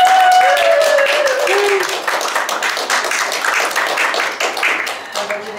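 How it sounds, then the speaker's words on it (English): Guests applaud the newlyweds at a wedding ceremony, a sustained crowd of clapping hands filling the room, with a voice cheering briefly at the start and murmurs underneath. "So you can give them a little round of applause."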